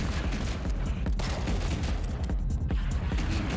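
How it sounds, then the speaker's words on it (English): Dense, continuous video-game gunfire with repeated sharp sniper rifle reports over a busy rumbling action soundscape, fairly loud throughout with no talk. "More sniper rifle."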